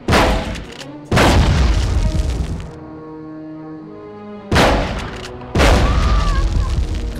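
Heavy booming gunshots in Medal of Honor Underground at Monte Cassino, two loud blasts a few seconds apart, each with a long rumbling tail, separated by a quieter sustained tonal drone.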